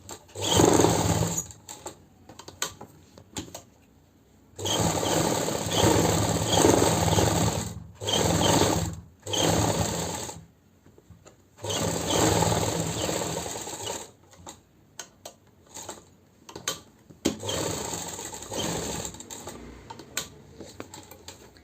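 A sewing machine runs in several bursts while it stitches a kurti collar, and each stretch of fast rhythmic whirring and clatter is split by short pauses. The sound is close and moderately loud, with no talking.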